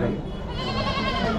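Young goat kids bleat in a dense, overlapping chorus at a busy goat and sheep market, steady and close, with crowd chatter and voices mixed in throughout.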